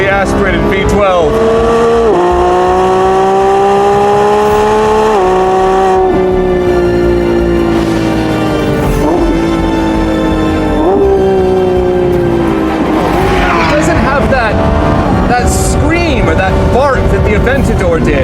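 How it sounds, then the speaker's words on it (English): Lamborghini Revuelto with a naturally aspirated V12, loud and close, its engine note climbing through gears with clear shifts, then a rising wail and tyre noise near the end; a voice talks over it. "The sound of a naturally aspirated V12."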